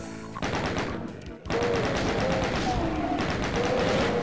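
Rapid gunfire from the 1993 Doom video game, bursts of repeated shots, loud and close, broken by a brief pause and then resuming, with gameplay effects around them.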